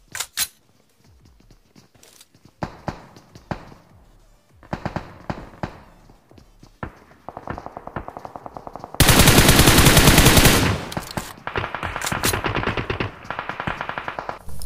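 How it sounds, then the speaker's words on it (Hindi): Bursts of rapid gunfire in the video game BGMI (PUBG) crackle in short volleys, building into a long, dense stretch of sustained automatic fire, then continuing in heavy overlapping bursts. "अब यहाँ पर गोलियां चलने की तो ऐसी आवाजें आ रही थी"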